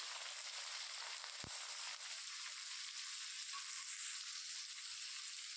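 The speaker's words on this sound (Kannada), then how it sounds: "ಈಗ ನಾನು ಒಂದು ಮೀಡಿಯಮ್ ಸೈಜ್ದು 3 ಈರುಳ್ಳಿನ ಕಟ್ ಮಾಡಿ ಇಟ್ಕೊಂಡಿದ್ದೀನಿ, ಅದನ್ನು ಸೇರಿಸ್ಕೊಳ್ತಾ ಇದ್ದೀನಿ" Chopped onions hit hot oil holding chana dal and urad dal for a drumstick-leaf stir-fry, producing a steady bright sizzle that carries evenly from start to finish, with a single soft knock early on and no talking.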